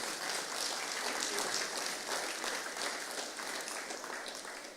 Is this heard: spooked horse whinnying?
no